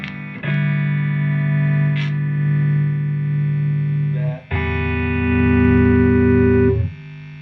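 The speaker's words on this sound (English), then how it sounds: "switch into the lead channel, turn the lead master down quite a lot to start with. Let's hear this lead gain." Heavily overdriven electric guitar chords through an amp's lead channel ring out loud and sustained, two held strums with a brief gap between them, gritty and saturated.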